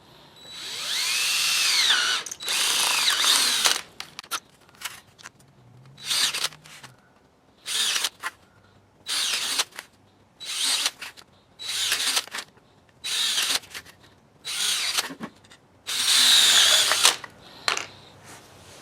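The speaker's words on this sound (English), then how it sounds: "I'm going to drill a hole at those locations" A power drill whirs in about ten short, loud bursts separated by brief pauses as holes are drilled in door seal pieces for a garage door, close by.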